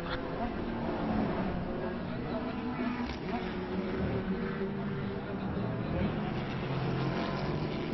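A race car engine drones steadily at full throttle around a track in a sim racing game, riding hard over the curbs during a PRLMS league season opener, with a commentator talking over it throughout.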